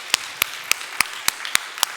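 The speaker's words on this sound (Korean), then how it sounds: "복된 가정 이루라고 박수 한번 보내주고 설교 계속하겠습니다" Sharp claps ring out in a steady rhythm during a church service, honoring an engaged couple who will marry that Saturday. The claps are evenly spaced and distinct rather than a dense roar of applause, with no talk over them.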